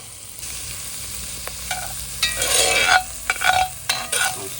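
Onions and peppers sauté in olive oil with a steady close sizzle, broken by louder bursts of stirring and scraping in the pan toward the end; no one speaks.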